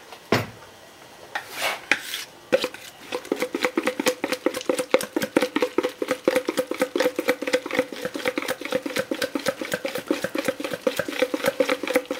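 A whisk beats ladies' wafer batter in a bowl with a fast, steady run of rhythmic clacking strokes that carries on for many seconds after a few opening knocks and scrapes.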